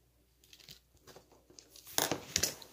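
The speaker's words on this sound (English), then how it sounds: "So you take a piece of cork. You're going to want to cut. Use the X-Acto knife." An X-Acto knife slicing through a piece of cork for a model railway layout, faint scratchy crackling strokes that build to a couple of louder crisp cuts near the end, close and quiet.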